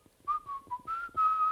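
A person whistles the Europa League anthem, a short clear melodic phrase of several notes rising and falling, close and distinct over near silence.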